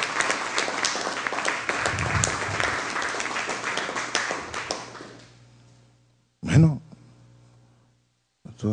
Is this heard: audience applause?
yes